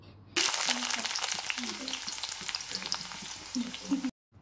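Onion pieces fry in hot oil in a kadai, with a loud, crackling sizzle that begins abruptly and is stirred now and then before cutting off sharply.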